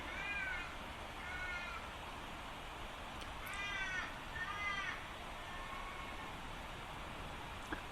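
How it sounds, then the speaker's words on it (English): Outdoors, a bird, a crow or magpie, gives several harsh, hoarse calls in short bursts, separated by pauses, faint and somewhat distant over a steady background hiss, with no talking. "There was a bird cawing"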